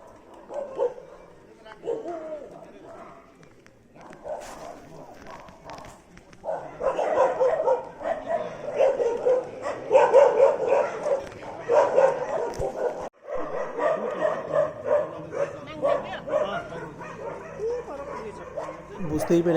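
Dogs on a Darjeeling morning bark and yip repeatedly, growing louder and more frequent partway through, with some whimpering between the barks.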